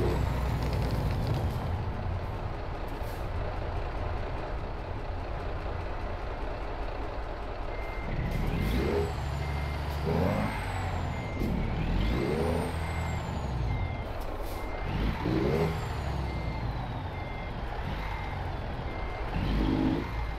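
A Freightliner Classic XL truck in American Truck Simulator backs up to hitch a trailer, with steady engine rumble, a repeating reverse beeper and several sharp air-brake hisses, loud and close with no talking.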